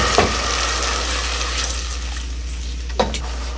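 Water goes into a pot of onions frying in oil, giving a steady loud sizzle with a couple of sharp splashes or stirring knocks over a constant low hum.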